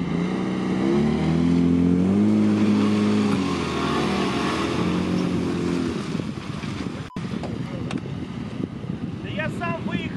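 Off-road vehicle engine revving hard while pulling out of deep mud, loud droning roar that rises and falls, then eases as people talk nearby.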